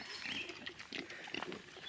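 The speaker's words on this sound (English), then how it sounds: "Morning, pigs." Piglets on a farm grunt and snort in a quick, irregular series of low, rough calls, fairly close and moderately loud, with no talk over them.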